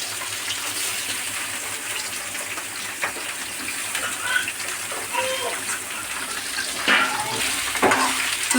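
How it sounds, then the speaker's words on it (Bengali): Taro stolons fry in hot oil, giving a steady, close crackling hiss with a few scraping stirs and clinks, no voices. "লতিটা এখন তেলের মধ্যে ছেড়ে দেওয়া হলো।"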